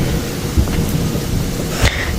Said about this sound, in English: Mommy, it's a thunderstorm